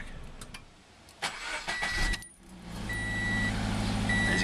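A 2013 Scion FR-S engine revs up after a brief clunk, climbing to a loud sustained mid-pitched drone, heard up close with no talk.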